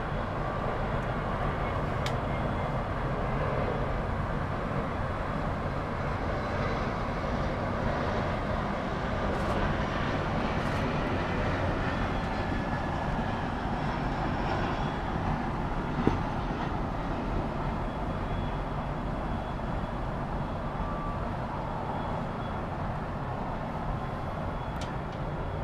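An Embraer jet arrives at Miami Airport, its engines giving a steady, broad roar that holds fairly even throughout, with no talking.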